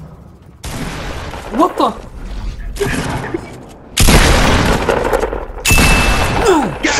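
Pump shotgun blasts in Fortnite, several loud booming shots in quick bursts with gaps between them, while a player exclaims over the gunfire.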